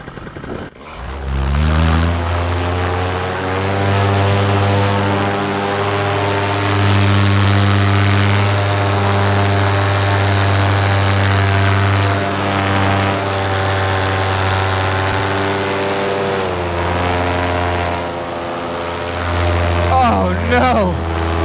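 A paramotor's engine and propeller on a test flight drone steadily and loudly throughout, a strong harmonic hum rising in pitch near the start, holding constant, then shifting toward the end.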